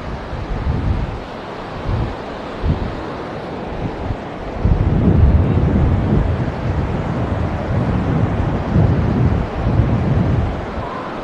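Waves washing onto the beach at Side, Turkey, on a windy April day, a steady broadband roar of surf with wind buffeting the microphone, swelling louder about halfway through.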